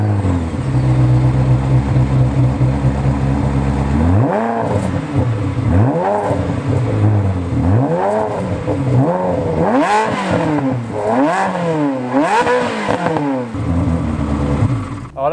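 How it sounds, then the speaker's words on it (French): Ferrari 360 Modena F1 with a Tubistil stage 2 exhaust revs hard, starting with a steady loud idle before a series of sharp, rising revs that climb and fall repeatedly, close and alone. "je suis sûr que vous avez envie d'entendre l'échappement. Échappement donc Tubistil stage 2 a priori"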